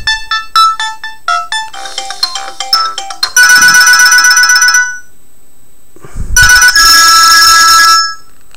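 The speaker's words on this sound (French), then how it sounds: "Dans les réglages téléphone, vous pouvez choisir donc la mélodie pour la sonnerie ou pour différentes choses" Ringtone melody from a Mobiho Essentiel Classic Facile big-button mobile phone, loud, close electronic tones: a quick run of stepped notes followed by two bursts of sustained ringing separated by a short pause.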